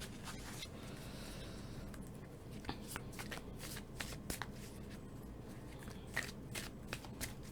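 Oracle cards are shuffled by hand close up, a soft continuous riffling and sliding with small irregular taps and flicks as the deck is worked, quiet and steady throughout.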